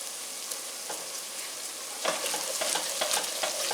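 Sautéed vegetables and garlic sizzle steadily in a pan, and stirring adds louder scraping and crackling bursts partway through.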